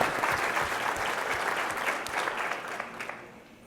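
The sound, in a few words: audience applause at a summit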